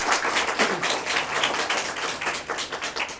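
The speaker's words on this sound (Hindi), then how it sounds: "तो हम दर्शकों से चाहेंगे एक बार जोरदार तालियां" Studio audience applause welcoming a guest, a continuous rippling patter of many hands clapping at moderate volume with no speech over it.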